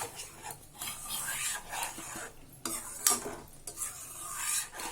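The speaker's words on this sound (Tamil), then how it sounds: "நல்லா ரவா கிண்டிகிட்டே இருக்கணும்" Semolina is stirred in a pan for a phirni payasam, a spoon scraping and rasping in uneven strokes, close and moderately loud, with brief pauses between passes and no speech.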